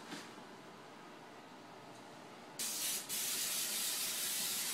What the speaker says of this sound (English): you're going to want to grease the mini cookie tins.